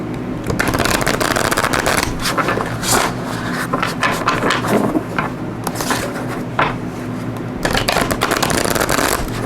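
Tarot cards from an Art of Manifestation deck shuffled and pulled, giving a continuous close papery riffling and sliding with brief pauses and a fresh burst near the end.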